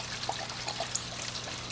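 Water trickles and splashes steadily through an aquarium overflow, a soft continuous dribble with small droplet plinks, fairly quiet and with no talking.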